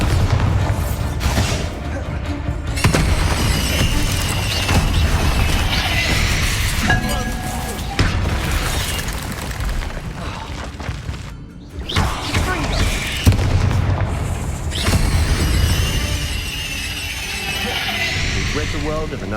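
Bombarda explosion spell in Hogwarts Legacy, blasting repeatedly with loud booms, crashes and clinking debris over a busy game soundtrack, with brief spell-casting voices between blasts.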